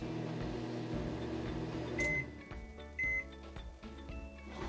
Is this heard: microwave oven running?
yes